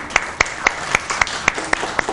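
Clapping breaks out for the hosts of an iftar cooking segment during Ramadan: roughly nine sharp, separate claps in a steady, fairly quick rhythm, close and crisp with little else behind them.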